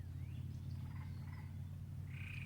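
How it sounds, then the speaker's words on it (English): Frogs calling around a full pond in the Missouri Ozarks, a dense chorus of low, throbbing croaks and gobbling calls that runs steadily throughout at moderate distance, with a few higher chirps above it and no talking. "Hear all the frogs? They love the pond being full."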